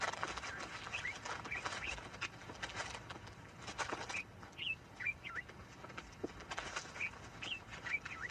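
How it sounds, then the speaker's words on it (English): Red-eyed bulbuls, fruit-eating birds in the Kalahari, give short clear chirps and whistled calls at scattered moments over a steady outdoor background. "Fruit-eating birds like the red-eyed bulbul soon discover the open melons."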